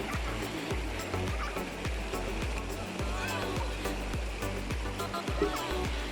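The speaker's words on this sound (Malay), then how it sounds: "Tapi sungai ni banyak batu yang besar-besar." A river rushing over many large rocks at a village picnic spot in Perak, a continuous loud roar of water in the foreground with soft voices mixed in underneath.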